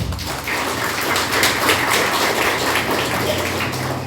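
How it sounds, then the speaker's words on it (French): Dense, steady applause from a graduation ceremony audience, a continuous crackling wash of many hands clapping at once, loud and sustained throughout with no talk over it. "Je vous demande de l'applaudir chaudement, s'il vous plaît."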